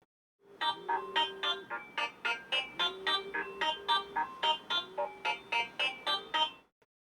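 A Doro 7030 mobile phone plays its ringtone, a fairly quiet repeating electronic melody of short, evenly spaced beeping notes with occasional held tones, ringing alone for about six seconds.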